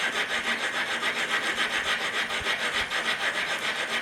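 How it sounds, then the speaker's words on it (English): A Willys Jeep T90 transmission gear being lapped back and forth onto its shaft makes a steady, rhythmic rasping of metal on metal, with repeated close strokes and no talking. "kind of lapping that gear right into the shaft there"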